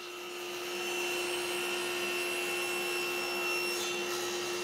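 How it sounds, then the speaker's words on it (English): A table saw runs steadily with a strong constant whine as a piece of wood is cut lying flat on the table, guided by a miter gauge along a 45-degree line; no talking. "because my blade doesn't go high enough for me to be able to cut this vertically, I'm going to do it flat on the table"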